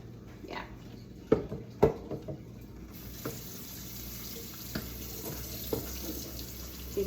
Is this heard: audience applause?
no